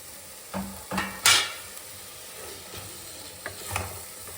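A spoon scrapes and knocks a few times in a pan of fried masala and tomato for paneer biryani, a handful of sharp irregular clatters over a soft, low sizzle.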